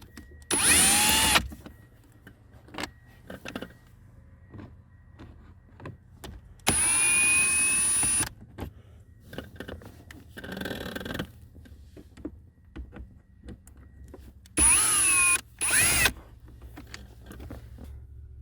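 A power tool whirs in short bursts while backing screws out of a Mitsubishi Triton dashboard, three loud buzzing runs spaced several seconds apart with quiet handling clicks and shuffling in between.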